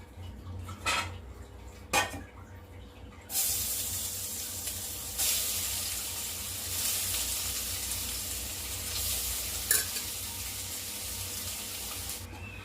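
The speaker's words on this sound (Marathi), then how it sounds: "आता जे तूप उरलेले आहे त्याच्यामध्येच आपण हे गाजरचा किस टाकून घ्यायचा आहे" Grated carrot dropped into leftover ghee in a pan for carrot halwa, a few utensil clinks and then a sudden loud, sustained sizzle that swells again as more is added, close and continuous with faint metal taps.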